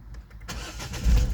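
A Citroen Berlingo car engine cranks and catches at about half a second, then settles into a steady idle that swells louder near the end, heard close up with no voices.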